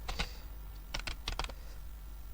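Quick bursts of keystrokes on a computer keyboard, a few clustered clicks then two short runs of rapid taps, close and clear with no talking.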